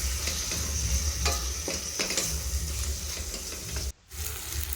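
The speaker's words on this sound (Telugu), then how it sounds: "ఈ టమోటా ముక్కలు కూడా బాగా మెత్తబడి ఫ్రై అయ్యే వరకు బాగా ఫ్రై చేసుకోవాలి." Tomato pieces fry in oil with ginger paste for an Andhra-style chicken drumstick curry, giving a steady close sizzle with stirring scrapes throughout and a brief drop near the end.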